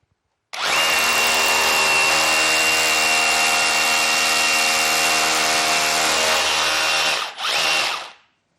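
A power drill with a Duo drill bit whines loudly and steadily for about seven seconds as it bores into wood, briefly dips, then revs once more before stopping.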